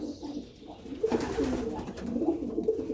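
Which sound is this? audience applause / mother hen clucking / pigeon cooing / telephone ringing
pigeon cooing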